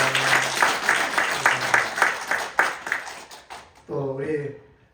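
A church congregation applauds two sisters at a baptism service, a rhythmic, moderately loud clapping that fades near the end as a speaking voice takes over.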